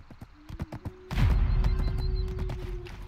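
Horse hooves in the video game Black Desert Online: a few scattered clops, then a louder sustained rumble of hoofbeats with a steady tone running beneath.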